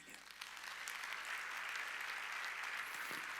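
A church congregation at a Wednesday worship service claps together, a broad, even wash of hands heard from across a large room, steady and fairly soft throughout.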